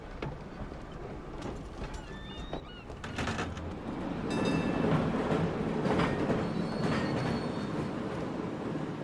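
A train in the video game Red Dead Redemption 2 rumbles and clatters past, wheels squealing and clanking as the rolling noise swells louder midway and holds.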